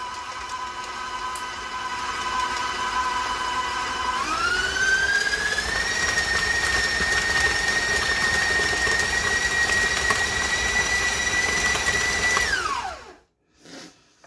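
An electric stand mixer softens blocks of cream cheese, running with a steady whirring drone that ramps up in speed partway through, holds at a higher pitch, then winds down and stops near the end.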